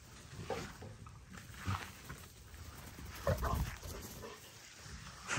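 An XL pitbull meets other dogs, giving soft intermittent snuffles, whimpers and low vocal grunts at close range in a quiet setting.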